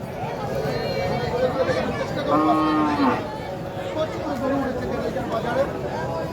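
A cow lets out a drawn-out moo over a steady crowd murmur and nearby voices, in a busy outdoor cattle market in Kanaighat.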